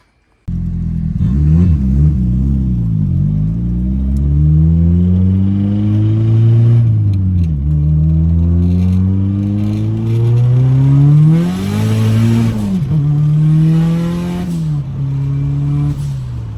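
A Nissan 240SX engine revs repeatedly, close and loud, rising and falling in pitch through several throttle blips over a steady running engine, with no voices.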